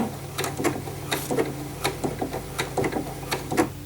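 A Janome sewing machine runs a short reverse locking stitch at the end of a blind hem, giving quick, evenly spaced needle ticks and mechanical clatter over a low motor hum, close by with no talking.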